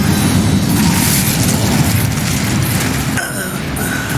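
An Incendio fire spell in the game Hogwarts Legacy bursts in a dense, rumbling roar that holds steady, then briefly gives way to a lighter crackle and a faint high tone.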